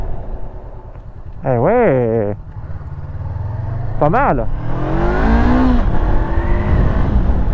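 A Honda CB500X motorcycle engine revs up and drops several times, then its note falls away as the bike slows under braking from a single disc brake with ABS, with someone speaking briefly.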